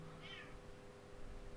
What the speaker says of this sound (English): Cat is getting very angry.